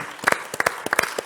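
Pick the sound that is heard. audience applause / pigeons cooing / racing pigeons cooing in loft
audience applause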